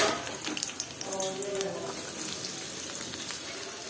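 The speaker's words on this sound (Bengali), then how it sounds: "যেটাতে আমি রোস্ট ভেজে নিয়েছি ওটাতে আমি দিয়ে দিব পেঁয়াজ কুচি" Chopped onions frying in a pan used for roasting chicken, a soft continuous sizzle with faint stirring sounds, close and steady.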